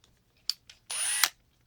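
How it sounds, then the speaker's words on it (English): A Hitachi triple hammer impact driver gives a couple of faint clicks, then one close, short burst of whirring motor lasting under half a second before it stops. "I have a Hitachi. This is the triple hammer impact."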